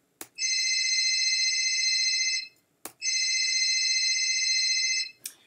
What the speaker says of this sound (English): every time I hit X, the phone's going to ring.